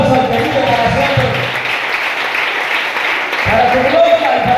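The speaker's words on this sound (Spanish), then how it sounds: "Le das un aplauso al que vive para siempre." A church congregation in Usera applauds in praise, with a continuous wash of clapping that swells steadily, while a singing or speaking voice with accompaniment sits underneath at the start and again at the end.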